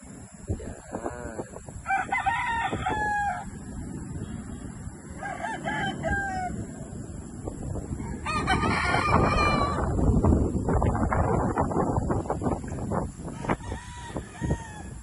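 Roosters crow repeatedly, several drawn-out calls spaced a few seconds apart, over a busy background of clucking chickens and farmyard noise.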